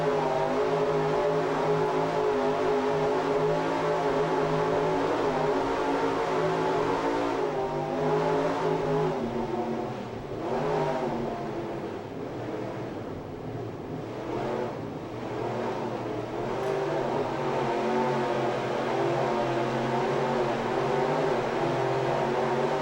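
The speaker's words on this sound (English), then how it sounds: "Mercury Power 2, 750 horsepower inboards" Twin Mercury 750 hp inboard engines on a 40-foot Skater powerboat racing offshore at Key West, a loud, continuous droning roar with steady harmonic tones that briefly dips and wavers midway before resuming at full power.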